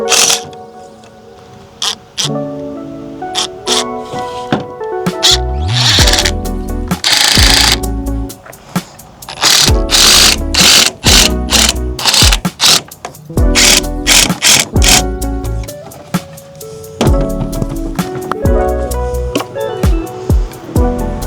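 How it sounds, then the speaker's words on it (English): Recycled screws driven up from underneath into a wooden outdoor stool seat, heard as repeated loud, close bursts of a whirring drill motor separated by short pauses. "I could screw it down from the bottom."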